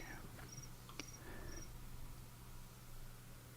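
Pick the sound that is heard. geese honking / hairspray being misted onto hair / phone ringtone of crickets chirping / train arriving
phone ringtone of crickets chirping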